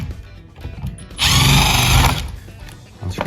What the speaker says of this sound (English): take a screwdriver or a drill with a Phillips bit on it